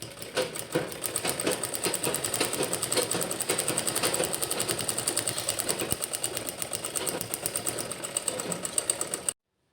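A sewing machine stitching leftover blouse cloth into a pouch runs steadily for almost ten seconds, a close, rapid, even mechanical rattle that stops abruptly at the end, with no voices.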